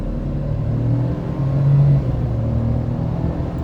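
A 2018 Ford F-150 pickup with the 2.7 EcoBoost twin-turbo engine accelerating from 20 to 60 as on an on-ramp after a downshift, a steady low engine drone and road rumble that swells briefly mid-clip, with no talking.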